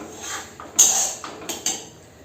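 Pots and utensils clatter in a home kitchen during cooking, with several sharp metallic clinks and knocks spaced irregularly over a quiet background.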